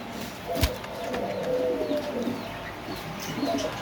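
Chocolate grizzle fancy pigeons at a pigeon market coo in soft, repeated low murmurs, with a sharp knock near the start and a busy background of other birds chirping.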